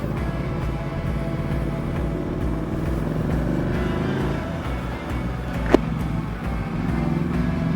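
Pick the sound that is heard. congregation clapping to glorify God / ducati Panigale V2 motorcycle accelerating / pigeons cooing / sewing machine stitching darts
ducati Panigale V2 motorcycle accelerating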